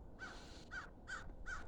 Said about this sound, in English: You hear that bird? He's or she is squawking during my outro.